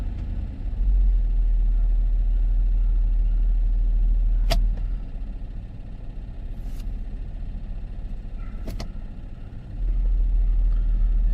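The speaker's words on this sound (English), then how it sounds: "what we want to do is shift through the different gears here" Steady low engine rumble from a 2013 Ford Edge with a transmission problem, idling while the driver shifts through the gears, with a couple of brief clicks and a small dip and rise in the drone.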